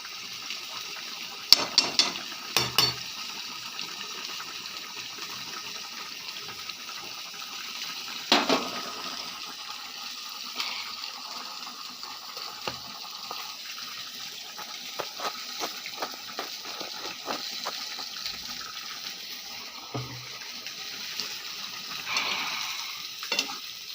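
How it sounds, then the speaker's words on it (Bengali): Ghee sizzling in a pan as food fries, a steady soft hiss throughout with occasional louder stirring scrapes and clinks, close and fairly quiet. "ঘি দিচ্ছি"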